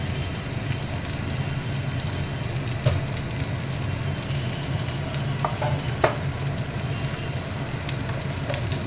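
Chicken and cashews fry in a pan, a steady close sizzle with occasional clinks and scrapes of stirring throughout, no voices.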